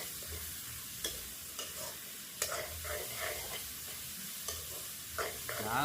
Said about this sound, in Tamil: இந்த மிளகா வெங்காயம் எல்லாம் நல்லா வதங்கி